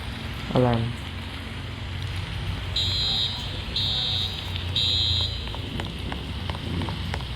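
A repeating electronic alarm in the Roblox game Brookhaven, set at a school, sounds three evenly spaced bursts of a high steady tone over constant rain hiss, after a short falling sweep near the start.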